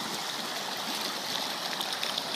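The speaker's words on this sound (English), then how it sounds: "It's just a little creek running through here out of the mountain." A small mountain creek runs steadily, a bright continuous babble and trickle of water close by with no other sounds.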